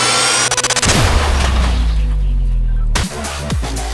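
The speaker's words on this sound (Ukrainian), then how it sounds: "Постріл!" A Ukrainian 115th Brigade artillery gun fires with a deep, booming blast that rumbles and echoes away, followed by a second loud thud near the end.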